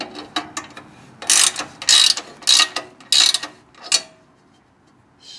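Bolts being snugged down on a propane tank mount on a 2019 XL Boondock Edge trailer, giving bursts of ratcheting clicks in several quick runs that end in a single final click, close and fairly loud, with no talk.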